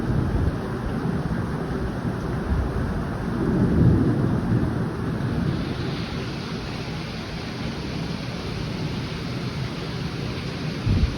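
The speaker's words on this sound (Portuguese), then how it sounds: "É chuva demais, gente. Você não vê nada no tempo, ó. Só água e chuva." Heavy rain pours steadily and loudly over a rural farm, with a deep roll of thunder swelling briefly in the middle of the dense, continuous hiss.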